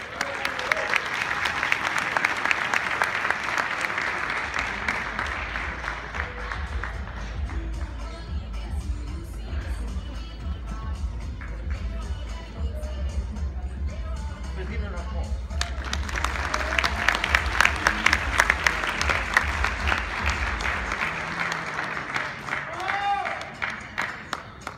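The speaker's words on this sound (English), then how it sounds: "Let's give a round of applause." Applause at a national Hispanic chamber of commerce convention in Philadelphia swells and fades in two waves, steady clapping from a large room with a speaker's voice and a cheer rising between the bursts.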